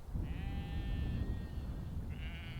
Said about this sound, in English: are these bloody sheep all right?